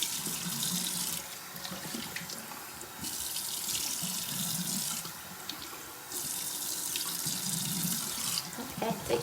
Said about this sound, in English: Now we're going to rinse it off.